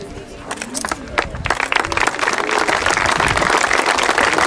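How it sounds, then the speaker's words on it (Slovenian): A crowd applauds at the unveiling of a foundation stone for a primary school extension, the clapping starting sparse and swelling into dense, steady outdoor applause that continues loudly. "Tako, aplavz je na mestu."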